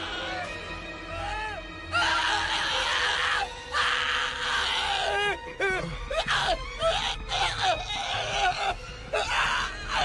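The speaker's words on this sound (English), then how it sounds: "What was with that scream?" Drawn-out screaming and wailing voices in an anime English dub, rising and falling in loud, repeated cries over a busy background of music and effects, with strained gasps between the outbursts.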